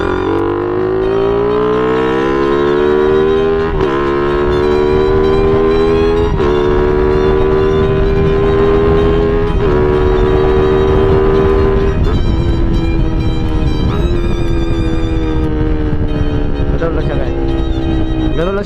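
A Suzuki Raider 150 motorcycle engine revs hard and loud, climbing through quick upshifts with repeated brief throttle cuts and instant recoveries, each shift giving a sharp dip before the whine rises again.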